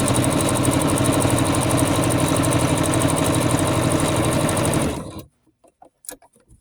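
A sewing machine runs fast and steady, stitching fabric strips diagonally corner to corner in a loud, even mechanical whir that stops abruptly after about five seconds, leaving a few faint clicks and handling sounds.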